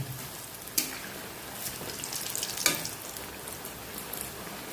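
Steady, close sizzling of green banana kofta frying in hot oil, with a couple of sharp crackles and light stirring.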